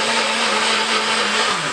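A blender mixing a protein shake runs steadily at high speed, a loud continuous whirring roar with a slight dip in pitch near the end.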